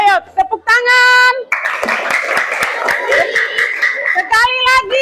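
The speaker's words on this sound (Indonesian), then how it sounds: "ayo tepuk tangan" Fifth-grade schoolchildren clap together in a classroom, a dense burst of hand claps lasting a few seconds, framed by children's and a teacher's voices before and after.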